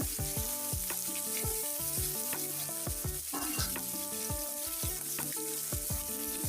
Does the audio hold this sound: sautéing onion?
yes